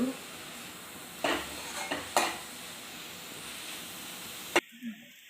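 Grated carrot frying in a home kitchen pan, a steady soft sizzle broken by a few sharp scrapes and clinks of a spoon stirring against the pan, with a quick clatter near the end.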